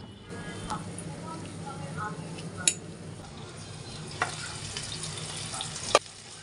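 A whole chicken frying in oil gives a steady, close sizzle, with three sharp clinks of a utensil against the pan spaced a couple of seconds apart.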